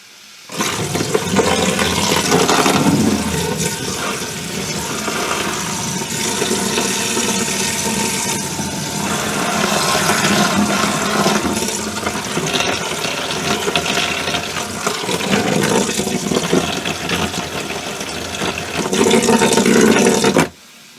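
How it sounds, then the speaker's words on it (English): A water hose sprays hard against a sealed kayak hatch, a loud, continuous hissing rush of water that swells and eases a little over about twenty seconds and stops abruptly at the end. "We're going to start with a water hose."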